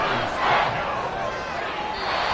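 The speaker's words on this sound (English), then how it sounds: "The Arrowhead crowd in full roar." Football crowd roaring at Arrowhead Stadium during a game, a dense, sustained wall of cheering that swells briefly and stays loud throughout.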